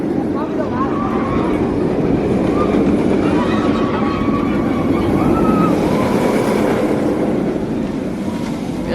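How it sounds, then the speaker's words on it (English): Velocicoaster roller coaster at a Universal park at night, a loud continuous rumbling roar of the train racing along the track, with a whooshing rush and crowd noise throughout. "we can't ride Velocicoaster tonight, but it looks amazing as it's flying by"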